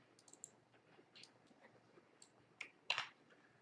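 A computer mouse clicks on a web page button, a few faint, sharp clicks scattered over a quiet background, with the loudest one near the end.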